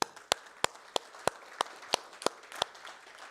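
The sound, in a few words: applause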